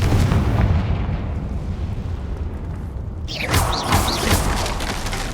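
A Confringo spell in the video game Hogwarts Legacy bursts as a heavy, rumbling explosion, followed by a brighter crackling blast and sparkling effects, loud and without speech.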